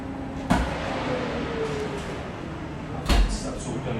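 A baking tray slides into a home oven and the door shuts, with two distinct thumps a few seconds apart, the second louder and nearer, over a steady kitchen hum.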